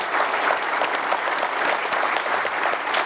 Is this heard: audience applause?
yes